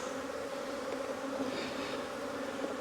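Honeybees buzz steadily and fairly close throughout an April inspection of a single brood chamber hive, a dense continuous hum with no talking.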